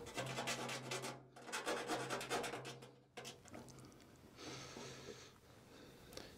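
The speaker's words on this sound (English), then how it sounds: "it's important to deburr both sides of the hole, the inside and the outside, so the grommet sits flush" Rough, rhythmic scraping of metal against metal as a hole in sheet metal is deburred, repeated strokes close to the microphone, with a steady low hum underneath.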